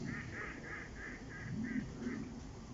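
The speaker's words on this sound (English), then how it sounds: "I can hear a duck laughing." A duck quacks outdoors in a run of about seven evenly spaced, moderately near calls, sounding like laughter over low background rumble.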